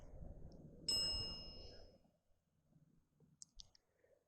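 A cemetery bell rings once with a sharp metallic strike, then its tone decays over about a second. A few faint clicks and taps follow in near silence.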